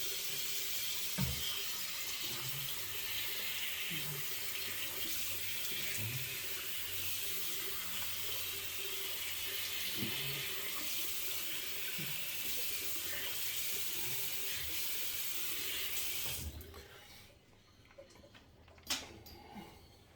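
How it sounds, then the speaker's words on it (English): Steady rush of water from a bathroom tap while a freshly shaved face is rinsed, with small splashes and knocks under the flow, which then shuts off abruptly near the end. "So let's wash this off and have a look."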